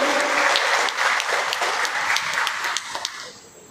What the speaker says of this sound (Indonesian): Tepuk tangan dong untuk Naturgood.